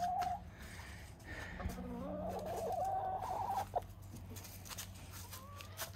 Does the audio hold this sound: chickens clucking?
yes